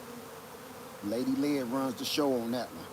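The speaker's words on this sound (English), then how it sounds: "That swarm, it's a bunch of bees around my equipment on my back porch now" A swarm of honey bees buzzes around equipment on a back porch, a steady low hum running throughout while a person talks over it.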